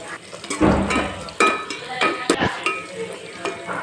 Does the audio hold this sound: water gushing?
no